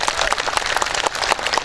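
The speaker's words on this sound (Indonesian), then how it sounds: "Tepuk tangan dulu buat muslimat NU nya" A short burst of crowd clapping for the Muslimat NU women's group at a religious gathering, brisk and fairly close, lasting under two seconds.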